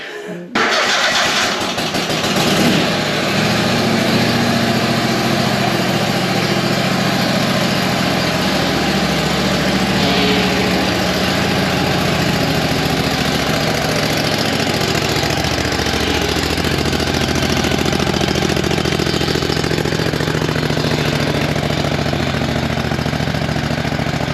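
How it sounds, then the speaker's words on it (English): A small lawn mower engine sputters to life, then settles into a steady, loud idle that continues without a break, with no voices. "Just starting up the lawnmower."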